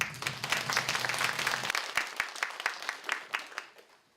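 An audience of Hamyang county residents applauds to welcome the monk Yongta before a free lecture, a dense burst of clapping that carries on after a low hum drops away, then thins toward the end.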